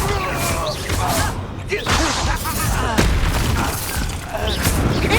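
Heavy magical blasts and booming impacts from a Bombarda spell fight in the Hogwarts Legacy video game, loud and repeated with voices calling out over the combat.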